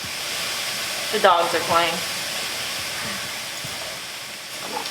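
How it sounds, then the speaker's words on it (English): Jackfruit sizzles in a hot pan, a steady broadband hiss that fills the background while a voice speaks briefly over it. "I'm just gonna dump these on in. Ooh, yeah, hear that sizzle?"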